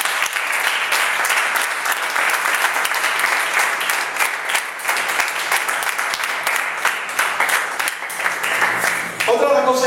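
A church congregation claps together in sustained, dense applause that fills nearly the whole stretch at steady volume, then thins out with a few scattered claps near the end.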